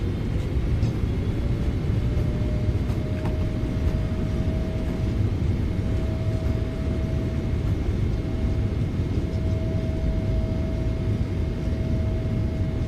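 Thrust reversers roar on a PMDG 777-300ER airliner just after landing in MSFS 2024, with a steady, loud, broad engine rumble and a faint whine running unbroken throughout.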